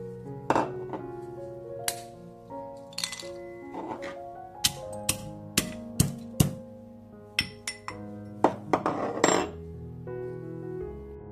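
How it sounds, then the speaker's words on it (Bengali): A brass mortar and pestle crushing hard cinnamon sticks: sharp ringing metallic strikes, irregular and close, each clang leaving a bright resonant tail, with no talk. "ওই হামান দিস্তাটা দিয়ে একটুখানি ভেঙে নিলাম"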